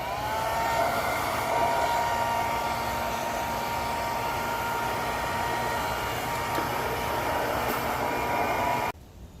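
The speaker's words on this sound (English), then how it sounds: "we're gonna use the next best thing, a blow dryer" A hair dryer blows continuously at a steady high whine, close and loud, cutting off near the end.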